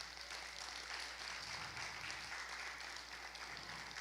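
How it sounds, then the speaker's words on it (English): Audience applause at an evening workshop event, a continuous soft wash of clapping at moderate distance that holds steady for several seconds without talk. "please give them a round of applause"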